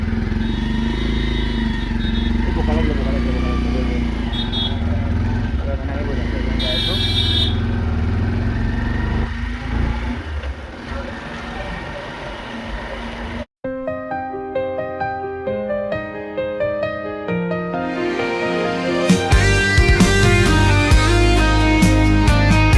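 A father's motorbike rumbles along the road while someone talks over the engine; after about thirteen seconds the engine noise cuts off and gives way to other sounds.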